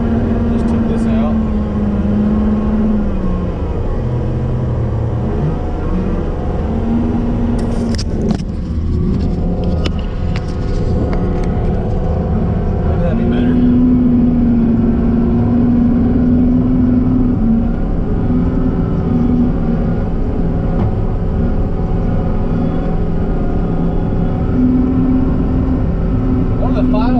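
A new Deere 333G skid steer engine idling and working close by, a loud continuous rumble with a faint whine above it, shifting in pitch now and then, under occasional talk.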